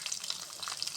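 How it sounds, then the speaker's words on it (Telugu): Urad dal, chana dal, cumin, hing, garlic and chili frying in oil in a kadai give a brief, soft, even sizzle with faint crackles. "కొన్ని లస్సను, మిర్చి వేసుకున్న తర్వాత బాగా ఫ్రై చేసుకోండి"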